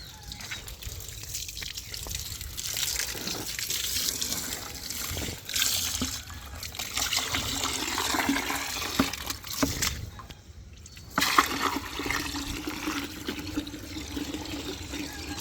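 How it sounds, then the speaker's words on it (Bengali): Water runs steadily into a bucket on a rooftop vegetable garden, a continuous splashing trickle that stays close and fairly even throughout, with no talk. "বালতিটা ভরতেছি।"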